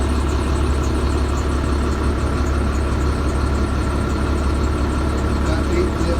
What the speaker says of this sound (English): Air compressor needs to build up pressure.